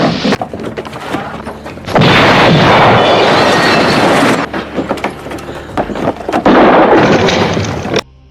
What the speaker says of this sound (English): the stranger had rigged the room with dynamite and immediately sets it off